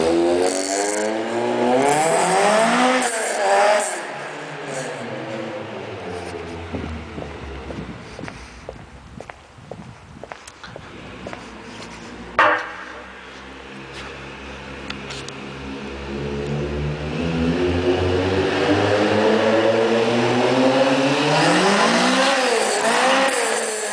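A 200-horsepower car engine races and revs repeatedly, its pitch sweeping up and down as it passes nearby, with a brief sharp bang midway and no talking.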